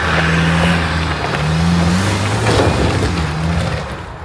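A blue 90 off-road vehicle revs hard as it climbs a deep hole on a hardcore off-road trail. The engine drone is steady and loud, swelling and dipping with throttle bursts, and runs throughout without talk.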